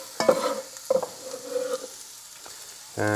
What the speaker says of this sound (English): tablespoon of olive oil in there, and throw in the garlic